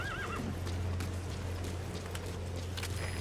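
A horse whinnies with a wavering neigh in Metal Gear Solid V, followed by soft hoof clops over a steady low hum and hiss.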